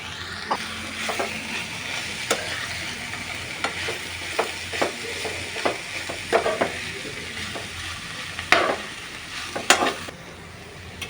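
Cabbage curry stirred in a pan with chilli powder and coriander powder mixed in, a steady sizzle beneath repeated scraping strokes of the spoon, close and moderately loud, with no talking.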